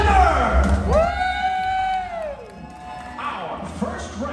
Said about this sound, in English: So please cheer loud. Make as much noise as you can